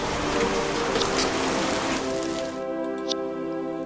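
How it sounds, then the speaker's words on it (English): Steady rain hisses from a sea witch's rain spell in the Age of Fear 4 video game, a dense constant wash with a sustained tonal hum underneath. "She's going to start off by making it rain."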